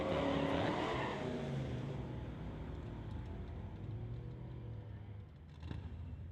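A 1970 GMC pickup drag racing at an old-time drag meet, its engine roaring loudly at the start and fading into a steady distant drone as it runs down the strip, with a faint voice underneath.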